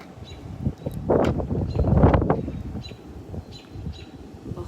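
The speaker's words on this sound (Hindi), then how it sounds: "बहुत तेज़ हवा है." Gusty wind rumbles against the microphone, swelling in the middle and easing off, with faint bird chirps in the background.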